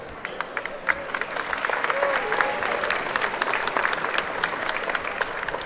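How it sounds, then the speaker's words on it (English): A basketball crowd in a college gym applauds the game officials before a men's game, sustained clapping from many hands at moderate distance, rising slightly and holding steady throughout. "officials' commitment to respect our game by thanking them with a warm round of applause"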